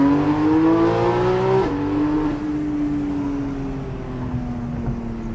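A sports car engine revs with no exhaust fitted, giving a loud, continuous, droning roar whose pitch rises steadily, drops sharply, then sinks slowly over several seconds, with no talking.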